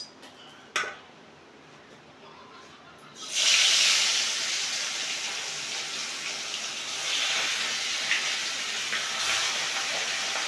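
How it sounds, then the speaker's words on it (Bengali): Bata fish, each weighing about 400 grams, drop into hot oil and set off a loud, steady sizzling hiss that holds for several seconds after a brief clatter. "এখন আমি মাছগুলো ভেজে নেব।"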